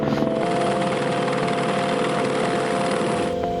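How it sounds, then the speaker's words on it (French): A helicopter engine runs steadily and loudly nearby, a constant whining drone with rotor thrum throughout, as the helicopter lifts guardrails onto a fort roof on Île Madame, France. "Nous avons réalisé 23 rotations d'hélicoptère pour approvisionner les garde-corps sur le toit."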